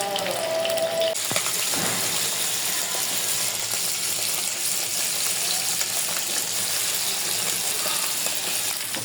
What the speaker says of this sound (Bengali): এখন ভাজি করব।